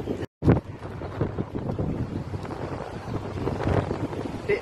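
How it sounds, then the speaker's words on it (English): Strong seaside wind at Southbourne near Bournemouth, Dorset, buffets the microphone in a steady, rough roar that swells and eases, with a brief dropout near the start. "it's really windy"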